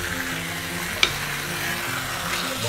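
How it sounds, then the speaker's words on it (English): Stir-fried pork belly in black bean sauce being stirred slowly in a hot wok, a steady close sizzle with a soft scrape of the spatula and one sharp clink partway through. "We're just gonna slowly stir it for a couple of minutes."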